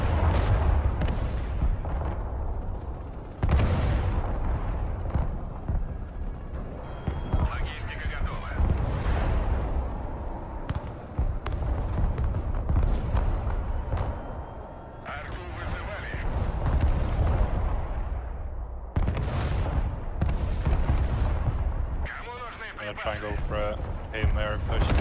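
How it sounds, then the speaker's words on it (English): Artillery fire in Broken Arrow, deep booming impacts and rumbling blasts rolling one after another across the battlefield, loud and low, under frequent talking. "Artillery's softening it."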